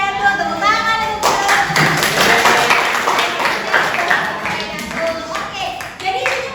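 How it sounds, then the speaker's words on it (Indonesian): A classroom audience applauds a student's presentation during a lesson, with dense, steady clapping from many hands that runs for several seconds, while voices carry on in the room. "Terima kasih Raidatul, tepuk tangan untuk"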